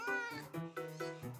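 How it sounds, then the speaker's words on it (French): A small stray cat meows several times in a row, close and fairly loud, each call a drawn-out tonal cry with short gaps between. "Toi aussi, tu es perdu? Bonjour, petit chat."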